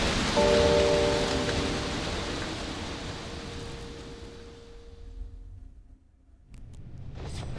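Rain pours down in the Genshin Impact video game, a loud steady hiss with a brief tonal hum early on, fading out to near silence before a few sharp sounds return.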